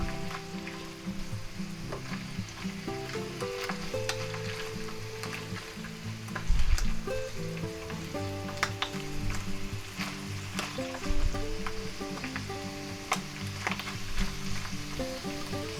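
A pan of mushrooms sizzles in peanut oil, a continuous close frying crackle with scattered spits and a couple of brief louder bumps from stirring, without any talk.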